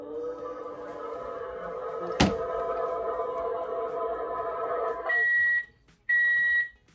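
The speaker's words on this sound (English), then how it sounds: "The microwave sounds like this." A kitchen microwave oven hums steadily with a single click partway through, then gives two loud, sustained electronic beeps near the end, separated by a short gap.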